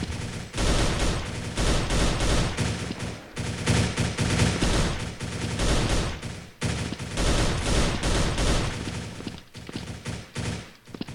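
Long bursts of rapid, dense minigun fire roar from the video game First Blood, loud and almost continuous with a few brief pauses between volleys.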